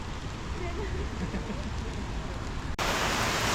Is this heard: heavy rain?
yes